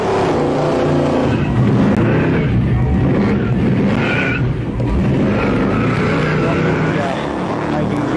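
A supercharged, alcohol-burning 8.2 litre Chevy V8 car does a burnout at the Summernats event, a loud, continuous roar of engine and tyre noise that runs the whole time with voices mixed in.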